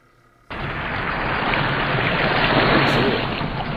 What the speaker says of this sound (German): Erstmal so ein richtig alter Wasser-Soundfeld.